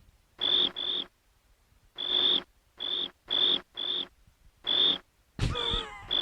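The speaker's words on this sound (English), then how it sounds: "That is the worst cricket sound." Cricket chirping sound effect, played as a series of short, evenly pitched chirps in pairs and singles with brief gaps, ending in a louder burst of noisy sound.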